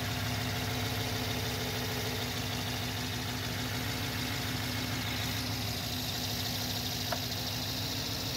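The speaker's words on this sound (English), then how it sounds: "let's start up the engine" A German car engine idles steadily with a low, rhythmic throb and constant hum, close up and unchanging throughout.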